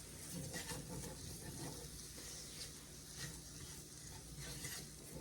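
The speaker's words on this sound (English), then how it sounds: "So in other words, cook your flour." Flour cooking in a pot for a beef stew pot pie gives off a faint, steady sizzle with soft stirring scrapes, quiet and unbroken throughout.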